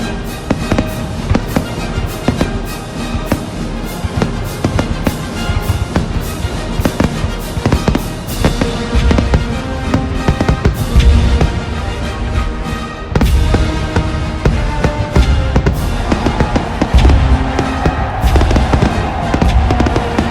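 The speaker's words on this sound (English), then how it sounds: "Fireworks with a bit of Tchaikovsky." Fireworks crackle and bang continuously as a halftime show at a championship football game, dense bursts and pops filling the air loudly throughout with no talk over them.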